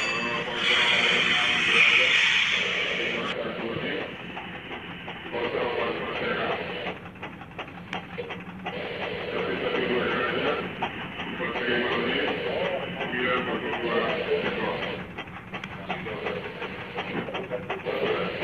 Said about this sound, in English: Engine ahead, dead slow.